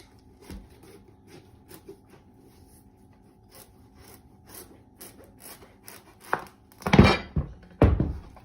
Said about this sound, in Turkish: üç kilo kabağım var. Onu doğrayacağım şimdi.